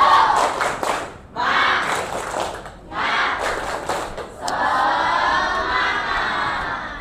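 A group in a classroom-style session does a tepuk semangat ice-breaking clapping game, with bursts of rhythmic hand claps and shouted chants in patterned rounds, ending in a longer sustained stretch of group clapping and voices.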